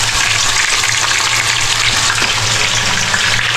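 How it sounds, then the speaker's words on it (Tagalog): Food frying in a pan, a loud, dense, continuous sizzle heard close up with a low hum beneath and no talking. "So, prito ko lang ito."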